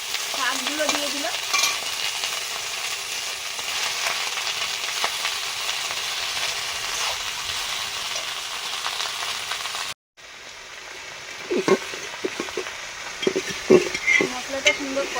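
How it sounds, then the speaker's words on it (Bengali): Greens tossed into fried onion in a pot, a loud steady frying hiss up close, then after a brief cut a quieter sizzle with several spoon knocks and scrapes, no voices. "পেঁয়াজটা ভাজার পরে শাকগুলো দিয়ে দিলাম।"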